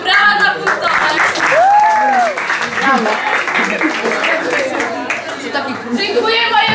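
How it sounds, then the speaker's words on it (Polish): Crowd applause for checkpoint staff at an outdoor city spy game in Mielec, steady dense clapping with chatter and whoops throughout, loud and close. "Brawa dla punktowych."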